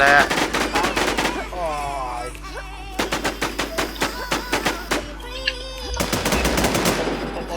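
Gunfire in the online shooter Infestation crackles in loud, sharp bursts of rapid shots, with short pauses between volleys, while people talk excitedly between the bursts.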